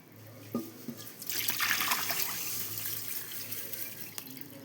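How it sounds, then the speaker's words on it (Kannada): Water splashing and swishing in a container as foxtail millet is rinsed by hand, fairly quiet, with a couple of small knocks and no speech. "ಈಗ ಇದನ್ನು ಚೆನ್ನಾಗಿ ತೊಳೆದು ಜಾಲಿಸಿ ಒಣಗಿಸ್ಬೇಕು ರೀ"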